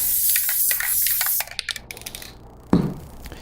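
An aerosol can sprays glue onto a toe warmer piece, a close hissing burst in the first second and a half, followed by small handling clicks and a brief thump.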